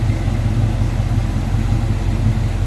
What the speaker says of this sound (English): pop that hood so you can see and hear how smooth that engine runs